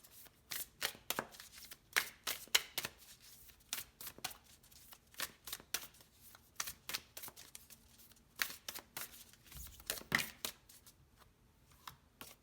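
Journey of Love oracle cards being shuffled by hand, a long run of quick papery riffles and slaps in irregular bursts, close and fairly quiet with no talk.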